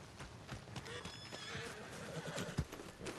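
Horses whinny and hooves clop in the Red Dead Redemption 2 video game, with several neighs and steady hoofbeats over a busy game soundscape and a sharp louder hit near the end.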